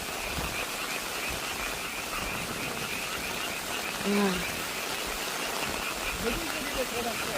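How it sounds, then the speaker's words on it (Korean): Frog croaking outdoors in a damp, rain-soaked night, a short low croak standing out over steady ambient hiss, with a few fainter calls following later. "개구리 오고 있어."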